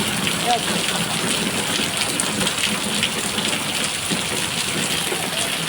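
Heavy monsoon rain pours down in a dense, constant hiss and patter on surfaces nearby, loud and unbroken throughout, with no voices.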